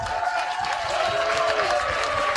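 A baseball crowd at an American Legion state tournament game in River Falls cheers on its feet with two outs, a steady roar of voices and some clapping, loud and sustained throughout.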